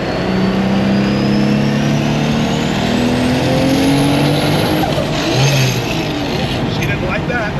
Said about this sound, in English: Turbo sounds.